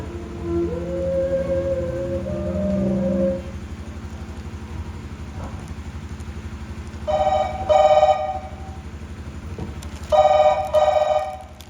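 A phone rings in two repeated bursts of electronic trilling, with a quieter tonal passage earlier and a steady hum underneath.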